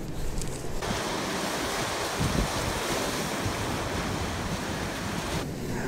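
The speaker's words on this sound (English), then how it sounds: "there's a big wave coming in, so I'm going to have to scat because I'm going to get soaked otherwise" A big wave rolls in on a rocky coast, a continuous loud rush of surf with wind buffeting the microphone throughout, no voices.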